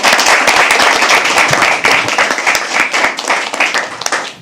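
Audience at a live poetry open mic at The Habitat clapping steadily, a dense close patter of many hands that holds strong throughout, with no talk over it.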